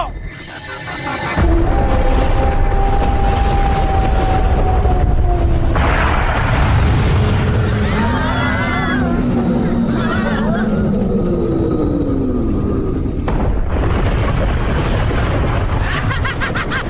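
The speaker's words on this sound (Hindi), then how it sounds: "देखा हमारी तेज आवाज वाली तोप की ताकत को।" Cannon blasts from a Doraemon cartoon: a few loud, sudden booms spaced several seconds apart, ringing out among raised cartoon voices and background effects.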